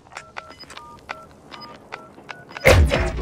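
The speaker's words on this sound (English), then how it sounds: "Planting the bomb, watch your asses." Bomb being planted in Modern Warfare: a string of soft keypad-like beeps and taps ticks along quietly for a few seconds, then a loud, sudden burst of noise erupts near the end.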